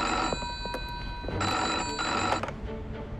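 A telephone rings in an office at a Nationalist military headquarters, its bright repeating bell bursts sounding loud and close over a low background hum, with no talk.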